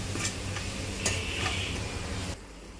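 Spices and salt get stirred into sautéed onions in a pan over a steady sizzling hiss, with a few sharp spoon taps. The hiss drops away near the end, and no one speaks.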